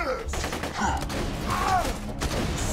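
Torque shotgun in Borderlands 2 blasting explosive pellets, dense rapid bursts of small blasts layered over constant game noise and music, loud throughout with a sharper cluster midway.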